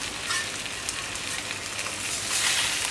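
Sole fillets sizzling on a hot plancha griddle, a loud continuous hiss and crackle of frying that swells slightly toward the end, with no voices.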